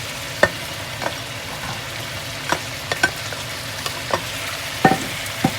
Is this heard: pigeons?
no